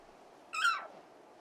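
A single short, bright bird screech rings out in Final Fantasy XVI, a quick descending cry lasting about half a second over a faint ambient hush.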